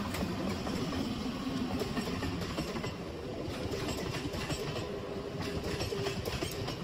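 A train rolls steadily past, its wheels clattering over rail joints in a continuous loud rumble with no voices over it.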